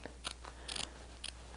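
Scissors trim quilt fabric with several short, crisp snips at an uneven pace, quiet and close with little else in the background.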